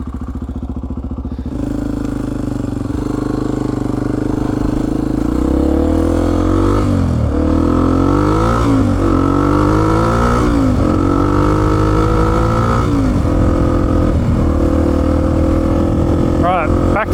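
A Honda XR250 dirt bike engine drones loud and close throughout the ride, with the pitch rising and falling as the throttle changes and someone talking over it.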